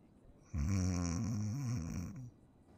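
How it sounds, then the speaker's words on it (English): A character in GTA V NoPixel roleplay gives a single long, loud, close snore, a rough drawn-out rumble lasting under two seconds, with quiet before and after. "he sounds kind of cute when he snores"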